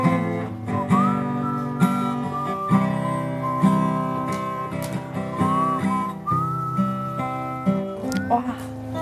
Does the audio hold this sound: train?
no